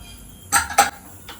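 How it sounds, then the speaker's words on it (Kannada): A pressure cooker lid opened after the pressure has been released while cooking greens sambar: two quick close metallic clanks and scrapes, then a faint trailing clink, with no speech. "ನೋಡಿ ಪ್ರೆಸರ್ ಹೋಗಿದೆ, ಓಪನ್ ಮಾಡ್ತಿದ್ದೀನಿ."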